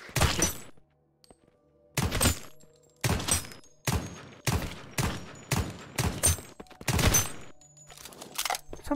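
Video game gunfire from a shooter, heard in repeated close bursts of shots separated by short pauses, loud and sharp, with faint game ambience between volleys.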